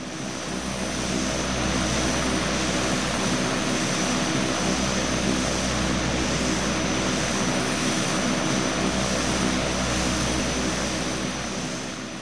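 Simulated F-14 Tomcat engines in a flight-simulator cockpit as the jet pushes back, a steady loud broadband roar with a low drone and a high whine, holding constant throughout with no speech.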